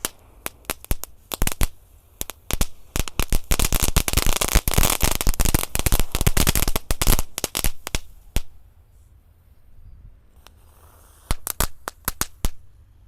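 A long string of sharp firecracker pops from firecrackers set off in a water puddle, crackling rapidly and densely in the middle, then thinning to scattered bangs near the end.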